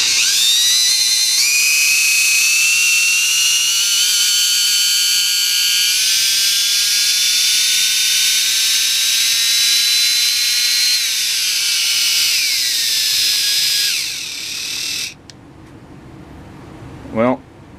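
A Dremel rotary tool runs with a freshly greased 575 right angle attachment, giving a loud high steady whine for about fifteen seconds that dips slightly in pitch before cutting off, followed by a brief final whir.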